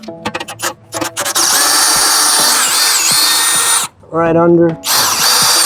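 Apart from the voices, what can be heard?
power drill cranking trailer jack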